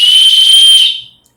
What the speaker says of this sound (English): I found a titanium whistle